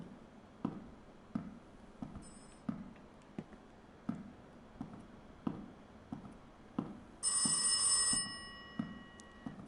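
Telephone ringing in the horror video game Rise of Insanity: a single bright electronic ring burst of about a second, heard over a steady low pulsing ambient beat with periodic thumps.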